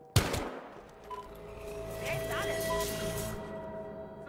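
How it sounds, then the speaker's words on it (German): A burst of rapid gunfire in the video game Battlefield Hardline opens with a sharp shot, followed by sustained mechanical game noise and faint tones; no speech. "Ich hab Schüsse gehört."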